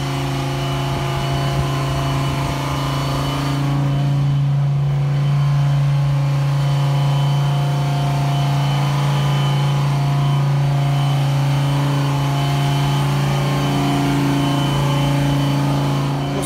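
Audi R10 TDI diesel race car engine running at a motoring event, a loud sustained low drone that holds steady for the whole stretch and swells slightly in places, with no talking.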